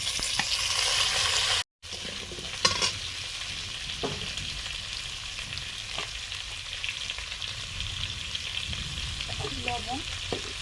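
A five-spice tempering sizzles in hot oil at the start of a fish curry with potato, papaya and gourd stems, a steady close frying hiss with faint crackles and occasional clinks of stirring, briefly cut out near the start.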